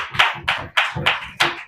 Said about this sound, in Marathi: जोरात टाळ्या वाजवा बरं या सुंदरशा वचनासाठी